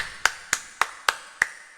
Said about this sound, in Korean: 저는 박수를 보내고 싶습니다